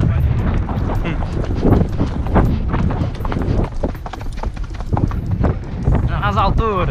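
Horse galloping with steady rhythmic hoofbeats recorded close by from a camera on the horse, mixed with wind rumble on the microphone and someone talking over it.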